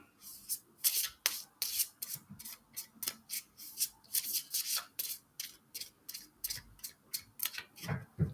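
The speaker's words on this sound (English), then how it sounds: "While these cards are still sorted before I start shuffling them up." Tarot cards from the Tarot Disassembled deck being shuffled by hand, a run of crisp riffling bursts repeating in a quick regular rhythm, close and clear with no voice.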